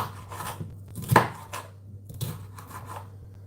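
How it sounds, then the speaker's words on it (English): A knife chopping vegetables into little squares for Viking meatballs, a few irregular close cuts against a board with one sharper louder chop, no talking. "then you're going to chop down them into little squares."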